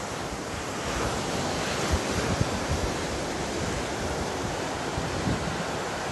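Waves wash onto a small rocky beach in Brazil in a continuous, close surf roar, with gusty wind buffeting the microphone and no voices.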